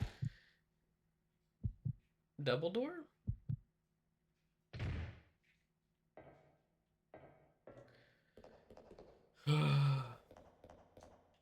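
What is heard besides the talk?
heartbeat sound in Resident Evil Code Veronica video game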